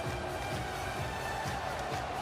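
A basketball crowd in the Shenzhen Sports Center at a China versus Japan FIBA Asia Cup qualifier, a steady dense roar of cheering and noise filling the arena.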